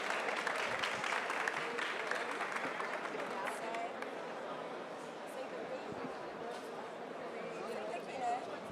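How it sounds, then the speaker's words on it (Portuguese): Applause from an audience at a freedom forum, a soft, steady patter of many hands that carries on throughout, heard at a distance and fairly quiet. "Uma salva de palmas, por favor."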